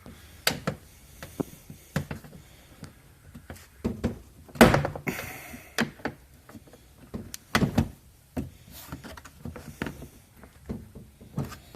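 Plastic clips and trim on a Nissan Xterra door panel pop and thunk as the panel is pried off with a knife, giving scattered sharp knocks and snaps with quiet gaps between them.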